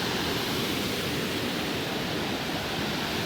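A huge waterfall on New Zealand's Routeburn Track, heard as a steady, dense roar of falling water, broad and constant from start to finish with no voices.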